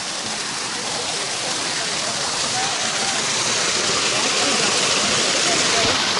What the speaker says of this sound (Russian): О, водичка бежит.